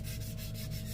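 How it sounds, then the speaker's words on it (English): Paper sanded by hand for a handmade quilt craft: a soft, steady rubbing with faint rhythmic strokes, quiet and close, with no talking. "That's what I like about sanding it."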